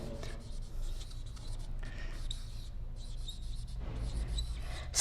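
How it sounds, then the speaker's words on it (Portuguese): Pen or pencil writing capital letters by hand on paper or a board, a steady scratchy rubbing in short bursts with brief pauses, close and fairly quiet, alone without talk. "Isso aqui eu vou escrever em letra maiúscula."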